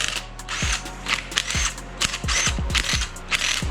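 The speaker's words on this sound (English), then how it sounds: "Now remove the 10mm bolts that hold on this whole plate right here." 10mm bolts come off a plate on a Toyota 2JZ engine during a head gasket and timing belt teardown, with close, rhythmic ratchet clicks and metallic taps in quick repeated strokes, without talk.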